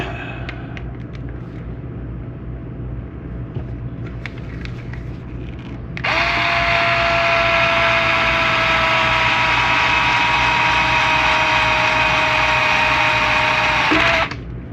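A Fanttik Fold S1 Apex electric screwdriver tightens a screw after some quiet handling noise, its motor whining steadily and close for about eight seconds before stopping abruptly.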